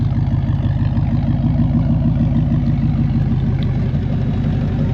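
A Jeep engine runs steadily at low, heavy revs while crawling through snow on the way to a summit campsite, a loud continuous rumble with no voices over it.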